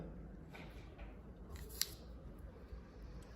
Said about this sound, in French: Donc, on va couper les bords ici aussi.